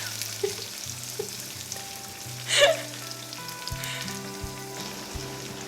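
Curry leaves and onions hit hot oil with cumin seeds, giving a soft, close sizzle with a brief louder hiss partway through, under a low steady hum.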